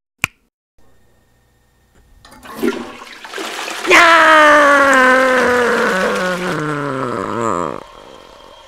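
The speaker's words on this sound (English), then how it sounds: "Let's flush him." A toilet flushing after a sharp click, a loud roaring rush of water that swells, swirls steadily for several seconds, then cuts off into a quieter refill trickle.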